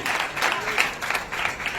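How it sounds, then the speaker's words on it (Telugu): A church congregation clapping their hands during worship, a steady patter of many claps at moderate loudness with slight rhythmic pulses, no speech over it. "చప్పట్లు కొట్టండి."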